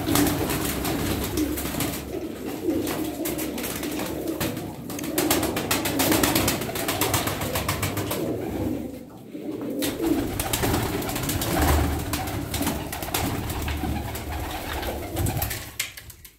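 Pigeons, including an Arab hen, coo continuously in a dense flock, close and loud, with a steady rumbling chorus and a brief dip partway through.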